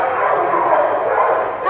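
A shelter dog at an animal shelter gives a steady, close stream of yips and whimpering barks that fills the short clip, with a person talking over it.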